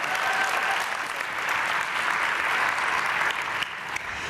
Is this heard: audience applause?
yes